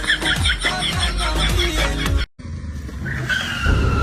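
A vehicle brakes hard and its tires skid briefly, cutting off sharply into a short silence before engine and road noise return, loud and close.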